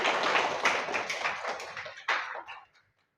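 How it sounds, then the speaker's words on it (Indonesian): Students in a classroom clap for a classmate after a maths lesson on arithmetic sequences, a short burst of scattered hand claps that thins out and stops within about three seconds. "Kasih tepuk tangan juga untuk Mas Dik."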